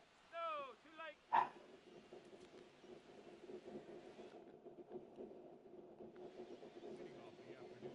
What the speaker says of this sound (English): I can hear Rocky outside barking his head off